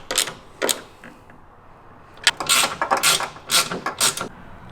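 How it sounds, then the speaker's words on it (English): A socket wrench tightening a nut while a light bar is mounted on a 2023 Tesla Model 3 gives short bursts of close ratcheting clicks, two early and then a quicker cluster of strokes, with no talking. "you're going to get your socket and tighten it down"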